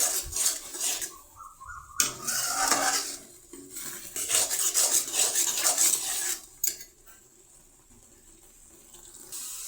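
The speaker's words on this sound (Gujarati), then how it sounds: "આ રીતે આપણે તેને સતત હલાવતા રહીશું જેથી આપણે ગાજરનો હલવો સોટી ન જાય" Carrot halwa stirred in a pan gives repeated scraping, wet sloshing strokes in uneven bursts, loud and close, with brief pauses between stirs and no talking.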